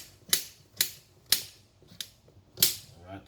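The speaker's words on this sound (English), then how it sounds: "you want to get a nice lovely about half of a cucumber. Alright? And cut it up very small like this." A small knife chops a cucumber into small pieces on a board, giving five crisp, evenly spaced knocks close to the listener with quiet gaps between them.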